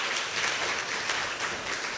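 A church congregation applauds together, a dense, steady wash of many hands clapping that fills the whole stretch without pause.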